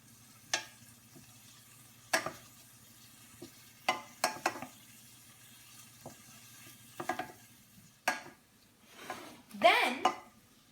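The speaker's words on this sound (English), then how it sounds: "you can't forget to stir it because you want to make sure it mixes properly" A spoon stirring a saltfish and dumpling mixture in a pot, with sparse separate scrapes and clinks against the metal at irregular intervals over a quiet low hum, the last few louder and closer together.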